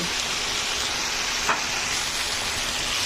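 Precooked rice tossed and stirred in a hot frying pan, a steady dense sizzle with a brief scrape of the spatula halfway, close and continuous with no speech.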